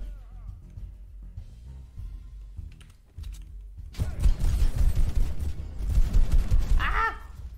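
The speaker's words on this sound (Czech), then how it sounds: "Kdo po mě střílí?" Rapid bursts of video game gunfire erupt after a quieter stretch, dense and loud, layered with clicking and other game effects.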